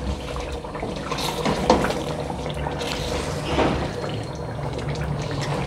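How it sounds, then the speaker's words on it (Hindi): Water is poured into nihari masala, about two tablespoons added to the spiced oil of the Delhi-style stew, giving a steady sizzling, bubbling wash of liquid close up with a couple of brief louder splashes. "हल्का सा पहले पानी डालेंगे 2 टेबलस्पून"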